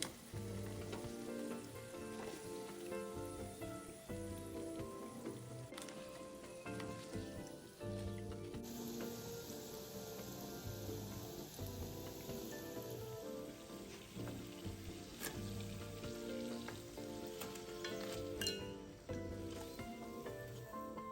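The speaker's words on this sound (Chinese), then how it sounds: "油炸至表面微微金黄色后即可离火" Tapioca nian gao dough pieces deep-frying in hot oil, a constant dense crackling sizzle with scattered sharper pops, steady and close throughout with no voices.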